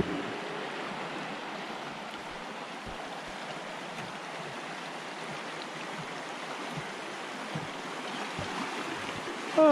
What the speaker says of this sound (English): Sometimes it's a brook.